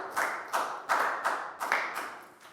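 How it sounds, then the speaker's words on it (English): A few people in a Year 4 classroom clap for a pupil, sparse, slightly uneven claps in quick groups, close and moderately quiet, about seven distinct strikes before stopping. "big round of applause for Pat"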